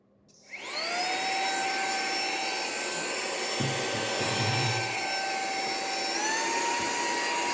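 A Dnipro-M VC-10BC cordless vacuum cleaner switches on and whirs up to a steady high-pitched whine that runs on continuously, its pitch shifting slightly near the end.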